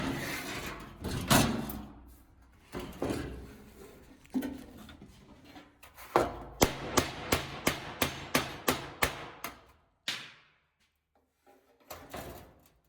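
Sharp metallic taps of a hammer on a dolly against a dented metal panel strike in a quick, even series, with slower irregular knocks earlier and a brief pause before a final pair of hits.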